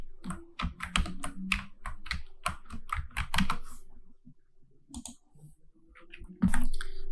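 Cursor keys on a computer keyboard are pressed in quick bursts of crisp, close clicks, with a pause midway and a final loud cluster of taps, heard alone without speech.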